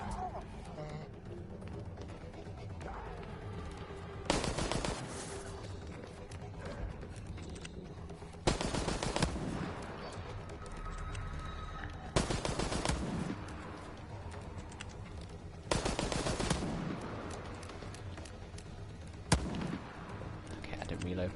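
Gunfire in the multiplayer horror game Resident Evil Resistance: several short loud broadband bursts at intervals of a few seconds over a busy game background, with a voice talking throughout.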